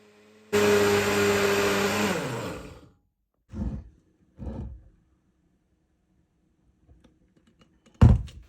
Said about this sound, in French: Je mixe de nouveau jusqu'à ce que le pain soit complètement incorporé et que la préparation devienne bien lisse.